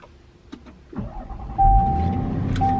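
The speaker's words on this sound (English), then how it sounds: "let me start my car" A Range Rover HST Sport starts up: a few soft clicks come first, then the starter cranks and the engine catches into a steady, loud idle with a faint whine riding on top. Nobody talks.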